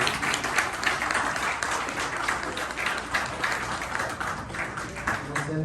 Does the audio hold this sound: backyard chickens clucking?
no